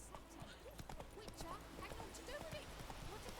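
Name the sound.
horse Roach trotting in video game The Witcher 3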